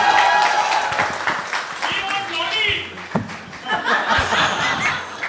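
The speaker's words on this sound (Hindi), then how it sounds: "एक बार जोरदार ताली चाहिए सिद्धार्थ के लिए" An audience at a Pathaan film event applauds director Siddharth Anand, with bursts of clapping mixed with laughter and cheering, while voices talk over the noise.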